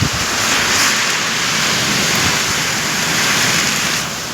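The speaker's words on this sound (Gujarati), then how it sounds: "વરસાદને પવન બે ભેગું છે" Heavy rain driven by strong wind over open farmland, a steady loud broadband roar that stays continuous and even for the whole stretch, with no voices.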